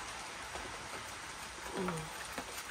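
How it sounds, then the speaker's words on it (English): Steady rain falls outdoors by a back kitchen door, a soft even hiss of drops on wet surfaces, with a faint brief tonal sound partway through. "It's raining, so everything's a bit soggy and flimsy"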